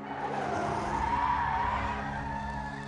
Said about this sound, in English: the twin sounds of screeching tires and crashing metal ring out as traffic lights fail